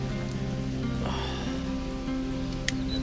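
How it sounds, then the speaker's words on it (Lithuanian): Heavy rain falls in the Fanal laurel forest on Madeira, a steady dense patter on leaves and surfaces that fills the whole stretch without pause, with no voices over it. "dabar lyt pradėjo smarkiai"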